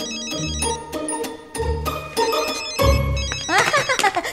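A phone rings in a hospital ward, its ring repeating over a music-filled scene, with brief vocal sounds toward the end.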